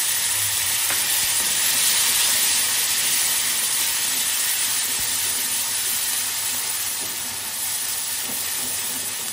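Onion paste hitting hot oil in a wok, a loud, bright continuous sizzle and hiss that stays fairly even throughout, easing slightly near the end, with no talking.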